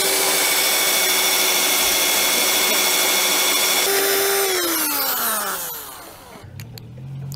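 A power drill drives a screw into a wooden frame for an outdoor bathroom or garden shed, a loud close whine that holds steady, then drops in pitch and winds down as the screw seats, ending in a few clicks.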